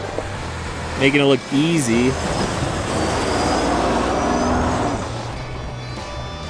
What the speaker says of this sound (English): Here comes the 22 Tundra